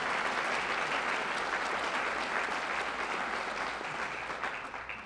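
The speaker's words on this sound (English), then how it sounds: "Please give them a round of applause," Applause for sponsors at a 2013 Lake County community service awards event, a broad crowd clapping steadily and fairly softly before fading toward the end.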